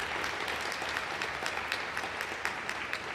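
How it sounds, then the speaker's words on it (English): Round of applause at a school committee meeting, a steady crowd of hands clapping in a room, dense and continuous throughout, moderately loud without voices over it. "So I want to give them a round of applause."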